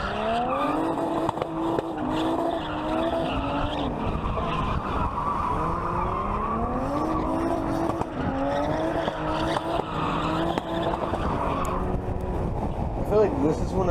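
A drifting car slides with its tires squealing continuously as the throttle rises and falls, the engine note wavering steadily throughout at close range and fairly loud, with no talk over it.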